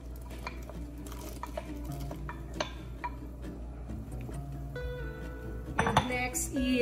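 Sweet potatoes go into a pot of boiling water for Filipino bilo-bilo (ginataan), with clinks and knocks of a pot and utensils over a steady low bubbling, near and moderate, loudest toward the end.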